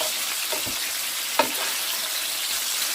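Chopped sausage and onion frying in a pan, a steady close sizzle with a few light clicks and one sharper tap midway.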